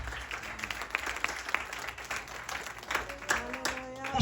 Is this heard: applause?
yes